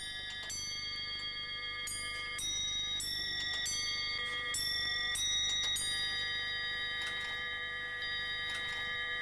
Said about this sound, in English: A striking jack sounds the hour.